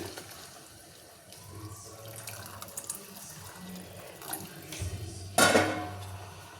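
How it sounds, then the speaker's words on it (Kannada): Thin chickpea cooking broth is mixed into a pot of kadalekalu bassaru, quiet clinks and liquid movement building to a brief splashy pour near the end. "ಇವಾಗ ಕಾಳನ್ನ ಬೇಯಿಸ್ಕೊಂಡು ಸೋರಿಸಿ ಇಟ್ಕೊಂಡಿದ್ನಲ್ಲ, ತಿಳಿ ಸಾರು, ಅದನ್ನು ಮಿಕ್ಸ್ ಮಾಡ್ಕೊತಾ ಇದ್ದೀನಿ"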